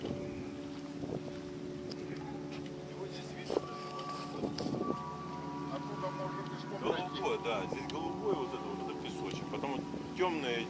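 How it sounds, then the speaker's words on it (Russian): Boats passing near a shore on Koh Lanta, Thailand: a low, distant motor hum with wind buffeting the microphone, while people talk throughout. "Только лодки будет слышно."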